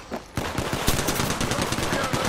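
Rapid automatic gunfire in the PC battle royale Apex Legends, dense continuous bursts of shots after a brief lull, loud and close with faint voice chat underneath.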